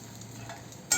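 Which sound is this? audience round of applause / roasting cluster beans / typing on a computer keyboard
roasting cluster beans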